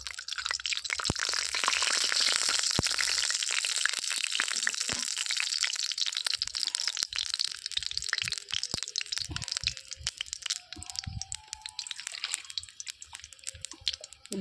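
Oil goes into a hot wok holding dried red chillies, bay leaves and panch phoron spices, setting off a close, crackling sizzle that is dense at first and gradually thins into scattered pops and spits.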